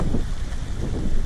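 Steady wind buffeting the microphone on a beach at Pattaya, Thailand, a low rumbling roar that stays constant throughout, with no voices.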